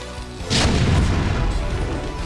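Artillery fire in the StarCraft Remastered video game: one heavy booming blast rolls out and fades, loud and close, with game sounds around it.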